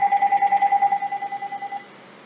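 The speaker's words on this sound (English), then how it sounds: "And it's just my phone, I'm not answering it." A phone rings nearby with a rapid warbling electronic trill, two steady pitched tones pulsing quickly and evenly for about two seconds before cutting off, heard alone without talk.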